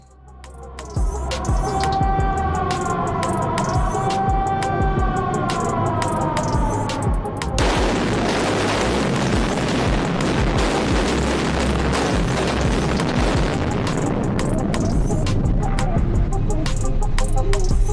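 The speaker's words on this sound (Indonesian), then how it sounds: "pemimpin peledakan akan melakukan proses firing" A blasting charge goes off at a coal mine: tonal humming and engine noise give way to a sudden heavy roaring boom that keeps rumbling and crackling loudly with debris for many seconds.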